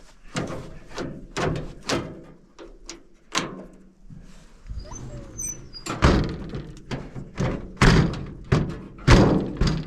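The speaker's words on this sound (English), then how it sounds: "I know the door works." Repeated heavy thunks of a 1947 Chevrolet truck's metal door being pushed shut and latching, several knocks in an irregular rhythm, close by with faint rattling between.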